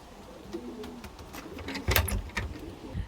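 Pigeons coo softly inside a loft, with several low, throaty calls overlapping among faint rustling and wing movement nearby.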